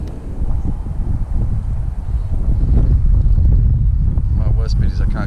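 Strong wind gusts buffet the microphone beside mangroves on a bank while someone fishes with lures, a steady loud roar with low rumble throughout and a voice briefly near the end.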